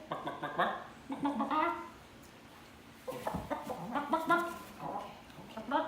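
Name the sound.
chicken clucking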